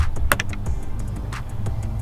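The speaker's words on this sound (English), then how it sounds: "and the door opens" A Guardian garage door opener starts raising the door with a low motor rumble, mixed with scattered clicks and rattles heard from inside a car.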